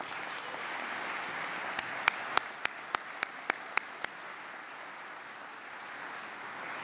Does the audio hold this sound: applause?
yes